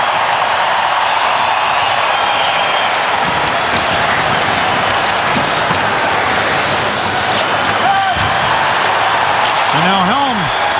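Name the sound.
hockey arena crowd applauding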